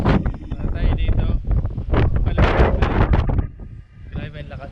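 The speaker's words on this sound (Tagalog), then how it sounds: "Grabe ang lakas ng hangin." Strong wind buffets the microphone at an outdoor spot near a dark house by the water, a loud broadband roar with gusts throughout, while people talk over it.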